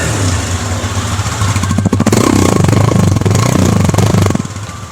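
A TVS Apache RTR 160 2V motorcycle engine runs close by, loud and throbbing, with a rapid, steady exhaust pulse that firms up partway through and then eases at the end.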